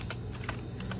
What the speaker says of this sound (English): I am gonna keep typing so you will know